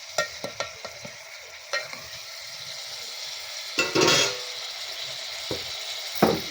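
Fish curry cooking in a pan, with scattered stirring clinks and scrapes over a soft, steady sizzle, and a brief louder burst of frying near the middle.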